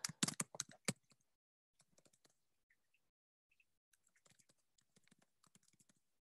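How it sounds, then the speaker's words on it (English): Someone types on a computer keyboard, starting with a quick loud flurry of clicks and then continuing in sparse, faint, irregular bursts of keystrokes in a quiet room. "and I'm just typing these into the chat"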